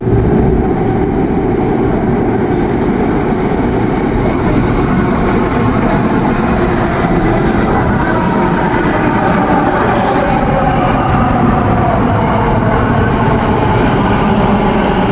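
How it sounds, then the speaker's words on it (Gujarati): An Ahmedabad metro train rolls into an underground station, a loud continuous rumble of wheels with squealing and clatter that fills the platform steadily. "અહીંથી મેટ્રો આવશે."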